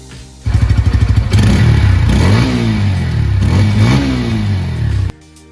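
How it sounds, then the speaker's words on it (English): A 2022 Bajaj Pulsar P150 motorcycle, revved close up, gives a loud exhaust note that rises sharply, climbs and falls in two throttle blips, then cuts off abruptly. "Now let's hear the exhaust note of the P150."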